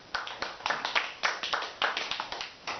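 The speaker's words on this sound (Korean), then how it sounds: "다시 한번 박수." A small group of attendees at an indoor support-group meeting claps in a brisk, uneven run of close, sharp hand claps that continues the whole time.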